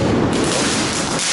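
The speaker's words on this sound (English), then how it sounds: "Or the fireworks. The kids setting them off." Fireworks set off by kids during the Fallas festival in Valencia make a dense, rumbling roar of blasts and crackle, loud and continuous throughout.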